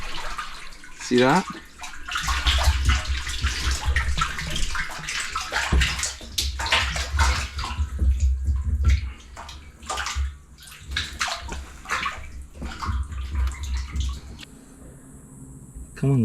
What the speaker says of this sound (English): Now all the water's gonna start rushing in.